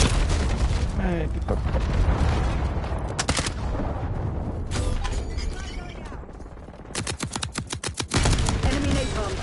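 Rapid clusters of loud explosions from a Hellstorm killstreak strike in Black Ops 6 pound through a chaotic multiplayer hardpoint match, mixed with gunfire and a man swearing over the blasts.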